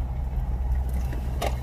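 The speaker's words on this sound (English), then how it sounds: "There's a lot of cars." Cars passing on a road, a continuous low engine and tyre rumble with one vehicle swelling briefly near the end.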